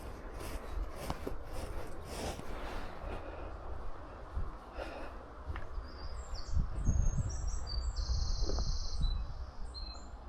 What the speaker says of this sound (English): Mike, can you hear the bird song through the neck microphone that I've got?